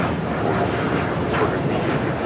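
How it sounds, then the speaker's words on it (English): United Airlines Boeing 787-10 Dreamliner, Flight 39 to Tokyo Haneda, taking off from Los Angeles LAX: a steady, broad jet-engine roar holds at even loudness throughout the short stretch, with no voices over it. "This is United Airlines Flight 39 taking off to Tokyo Haneda on the 787-10 Dreamliner."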